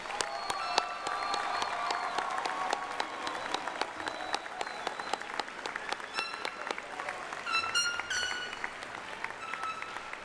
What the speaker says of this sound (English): Please join me in applauding all of the graduates from the College of Business and Industry.